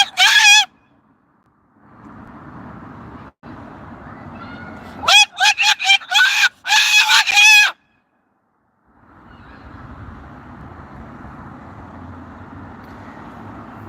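A Moluccan cockatoo shrieks on an outdoor patio in a rapid burst of loud, piercing screams, preceded by one short cry, with quiet background noise between.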